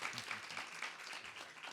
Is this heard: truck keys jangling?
no